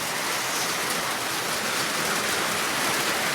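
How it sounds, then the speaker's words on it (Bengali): Steady rain pours outside a home kitchen, a dense even hiss of drops on surfaces with no break, fairly loud and alone. "এই যে বাইরে বৃষ্টি হয় প্রত্যেক দিনই বৃষ্টি হচ্ছে বাহিরে এই যে বৃষ্টি পড়তেছে"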